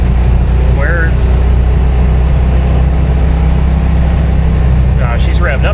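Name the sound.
car engine revving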